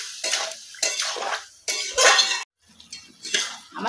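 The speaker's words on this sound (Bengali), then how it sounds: "একটু নাড়াচাড়া করে ভাজা করে নেব" Ash gourd pieces with a little salt and turmeric are stirred and fried in hot oil in a pan, giving a series of about six close, rhythmic scraping and sizzling strokes with short gaps between them.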